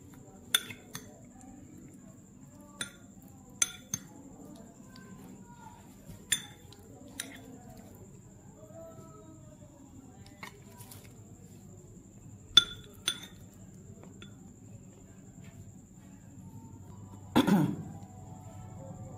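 Spoon mixing ketchup and mustard paste in a bowl, giving scattered faint clinks of metal on the bowl at irregular intervals over quiet room tone, with a brief cough-like sound near the end.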